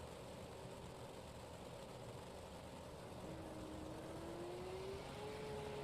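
A dirt track race car engine idles at a Wisconsin track, a low steady rumble heard from a distance, with a faint rising whine near the end.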